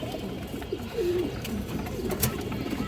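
A breeding pair of domestic fancy pigeons, a male and a female, kept at home, cooing softly with a few low rolling calls close by, and no talk over them.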